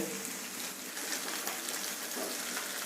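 Okra (bhindi) fries in oil in a pan, making a constant, dense, close sizzle that runs alone from start to finish.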